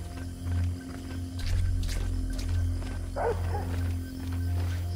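Dog barking in the video game Splinter Cell: Blacklist, a few short barks set over a steady low droning ambience at moderate distance, with no talk over them.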